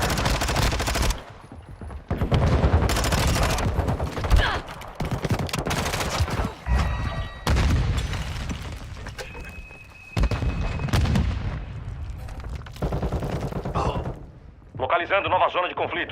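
Rapid bursts of automatic gunfire and booming blasts, including a grenade explosion, fill a Call of Duty ranked match, loud and dense with brief gaps, while a player's voice talks over the shooting.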